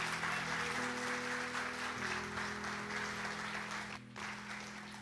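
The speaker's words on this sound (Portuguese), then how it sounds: "dá salve de palmas para Jesus" Congregation at a church service clapping for Jesus, a steady wash of applause heard at a distance, with organ or keyboard tones sustained beneath it and a brief dip near the end.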